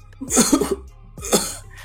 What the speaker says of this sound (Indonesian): dia batuk-batuk muntah darah